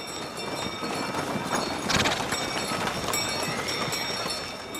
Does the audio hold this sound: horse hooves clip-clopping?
yes